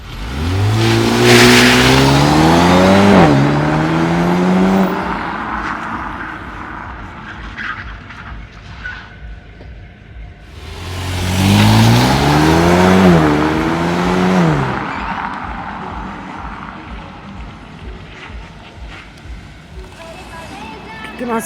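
Mercedes car driving fast and drifting, with two loud surges of rising engine revs a few seconds long, each fading back down, mixed with a person talking throughout.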